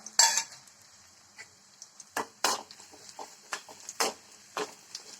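Dried red chillies being stirred in a pan for dal curry, heard as a run of sharp, separate clinks and scrapes of a utensil against the pan, close and fairly quiet, with no talk.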